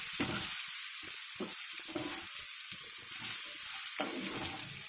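Pumpkin pieces sizzle steadily in a hot pan while a spoon stirs them, bright hissing constant throughout with intermittent scraping and clattering pushes through the mix.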